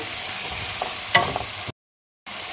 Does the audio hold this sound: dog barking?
no